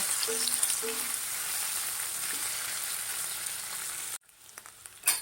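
Grated potatoes frying in a little oil in a kadhai give off a loud, continuous sizzle that cuts out abruptly near the end, followed by a quieter pause and a brief clatter.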